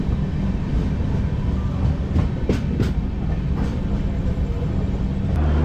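The 12822 Dhauli Superfast Express running on the tracks near Kolaghat on the Puri to Howrah route, heard from inside as a loud, steady rumble with rhythmic clickety-clack wheel beats throughout.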